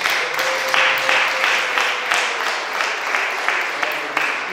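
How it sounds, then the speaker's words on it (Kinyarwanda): Church congregation clapping together in a steady rhythmic beat, about three claps per second, loud and full, with a faint sustained tone running underneath. "Ariko bene data mwamere Imana amashyi ko ntacyo bitwaye"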